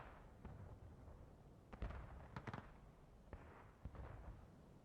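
Distant cannon artillery booms in the Civil War battle game War of Rights, on the Smokestacks map, several muffled thuds scattered across a low rumbling background.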